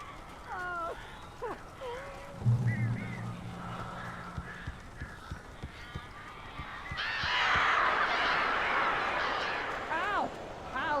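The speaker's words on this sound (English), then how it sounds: "These birds are weird." Birds honk and caw in the horror video game Alan Wake, with repeated goose-like honks and scattered caws, a loud flurry of harsh calls late on, and a voice talking over part of it.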